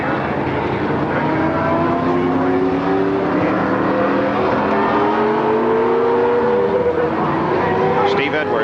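Pace car circling the racetrack at the 1981 Michigan 500 oval race, its engine a steady droning whine with gliding pitch over continuous crowd and track noise, while a commentator talks throughout.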